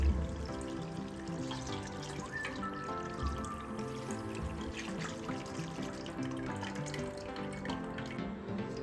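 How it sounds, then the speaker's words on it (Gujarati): Cold water pours from above over boiled pasta in a strainer set over a bowl, a continuous close splashing and trickling stream running unbroken throughout. "અને તરત જ આપણે ઠંડુ પાણી એડ કરી દઈશું ઉપરથી"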